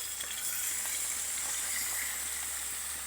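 Loitta (Bombay duck) fish frying with onion and tomato in a pan, an even, moderately quiet sizzling hiss that runs unbroken throughout, with no one talking.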